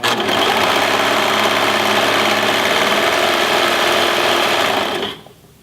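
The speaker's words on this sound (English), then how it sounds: "I'm going to use my blade to cut that 1/2 inch off." Brother 1034D serger stitching and trimming fabric with its blade for a rolled hem, a loud steady mechanical whir running continuously close up before cutting off abruptly near the end.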